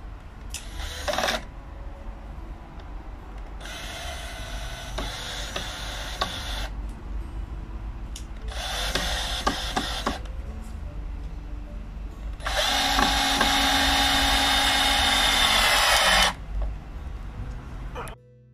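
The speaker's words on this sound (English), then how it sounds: "so I finished screwing into place the top part" A cordless power drill drives screws into the timber of a garden grape vine trellis in four separate bursts of motor whine, the last the longest and loudest, over outdoor background noise.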